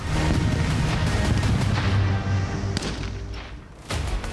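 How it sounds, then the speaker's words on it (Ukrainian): TNT charges set off in a military training exercise make a deep rumbling blast with heavy low booms, followed by a sharp crack near the end, loud and close. "інструктори заклали вибухові установки, зокрема тротилові шашки, які за командою імітували вибух"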